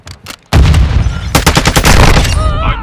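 Loud, close automatic gunfire on the Nuke map of a shooter game, a sudden burst of rapid shots after a brief quiet, continuing as a fast stuttering rattle with sharp individual cracks.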